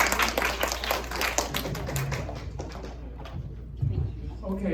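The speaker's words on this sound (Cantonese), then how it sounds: "咁我哋好熱烈嘅掌聲嚟歡迎佢啦" An audience at a talk on patients' rights breaks into warm applause to welcome a speaker, a dense patter of claps that thins out over a few seconds, with faint voices underneath.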